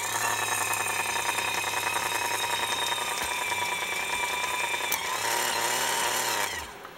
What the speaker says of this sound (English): I'll go ahead and apply power, and we'll watch the antenna actuate upwardly.